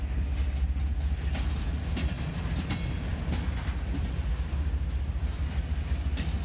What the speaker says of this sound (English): Still a lot of trains coming and going, like this one right here.